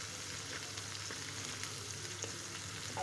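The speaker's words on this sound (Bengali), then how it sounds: "আমি এখন এই পেঁয়াজ রসুন কাঁচামরিচ আর একটুখানি হলুদ আর লবণ আর একটুখানি ধনিয়া গুঁড়া আর একটু আদা রসুনের পেস্ট দিয়ে এটাকে আমি সুন্দর করে আগে ভেজে নেব।" Onion, garlic, green chili, turmeric, salt, coriander powder and ginger-garlic paste fry in a pan for a Bengali vorta, giving a steady, soft, even sizzle with no talking.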